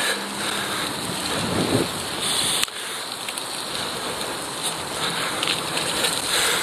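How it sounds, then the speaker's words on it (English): Strong wind gusting between city buildings in Toronto in February during a bicycle commute, a loud steady rush of wind noise buffeting the microphone throughout. "there's a lot of wind that comes through here because of those buildings. It's a wind tunnel effect that happens."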